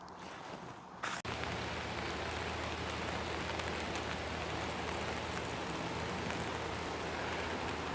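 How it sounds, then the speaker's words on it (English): Heavy rain pours down steadily during a storm at a hammock campsite, a dense continuous hiss of drops on the surrounding surfaces that starts abruptly and stays loud throughout. "Yeah, the rain's coming."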